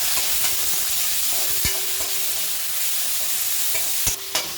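Chopped onion, tomato and curry leaves fry in hot oil for uppadpacchil kadle, a steady close sizzle broken by a few sharp knocks of a spoon stirring in the pan.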